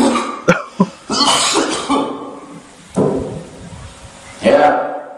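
Someone coughs several times in harsh, irregular bursts with throat clearing between them, close and loud, and speech is mixed in around the coughs.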